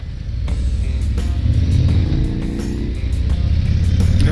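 A 2021 Harley-Davidson CVO Limited motorcycle rumbles loudly while riding, its engine note rising briefly under acceleration with steady wind noise and no talk.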